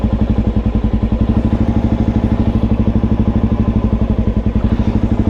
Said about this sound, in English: You can hear the RPMs dropping